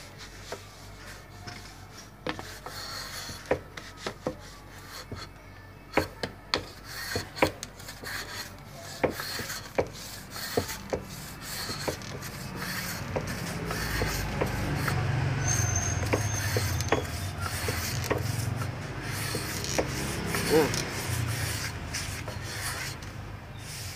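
Hand planing on acoustic guitar wood, a series of sharp scraping strokes at a steady, uneven rhythm, close and clear, giving way to a louder continuous rubbing shave in the second half.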